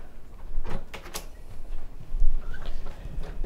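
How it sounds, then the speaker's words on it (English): Cellar door of an old house swinging open, a few short creaks and knocks close by, no talking. "if I open the cellar door here,"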